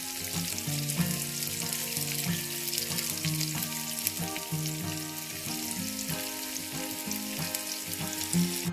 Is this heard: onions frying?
yes